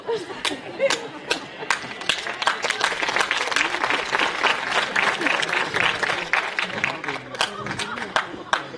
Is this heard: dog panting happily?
no